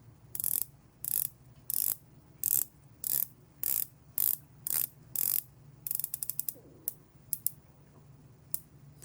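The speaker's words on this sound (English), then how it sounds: "Really like the bezel turning action here." A Timex Deepwater Reef 200m titanium automatic dive watch's bezel is turned, giving close, crisp ratcheting click bursts in a steady rhythm, then a faster run of quick clicks near the end.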